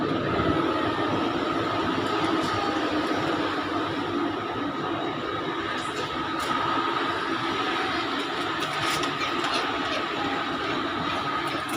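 Large Kraków railway station in Poland: a busy, steady hum of platform ambience with a continuous rumble and scattered clanks and knocks, no clear speech, sustained at an even level.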